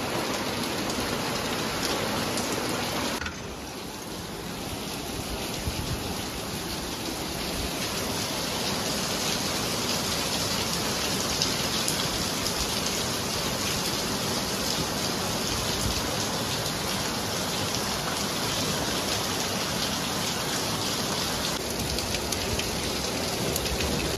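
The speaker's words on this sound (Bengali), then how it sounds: "দেখো বাইরে কি বৃষ্টি শুরু হয়েছে।" Heavy rain falls outside a house in a dense, continuous hiss of drops hitting surfaces that holds steady throughout, with no voices.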